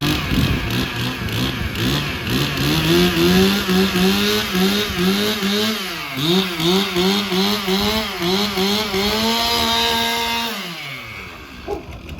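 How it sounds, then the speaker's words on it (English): A loud chainsaw engine roars and revs continuously for about twelve seconds while carving wood, pitch rising and dipping as it bites, then it winds down near the end. "You're gonna carve a bunny rabbit with a chainsaw"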